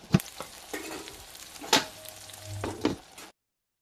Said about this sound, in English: I'm cooking.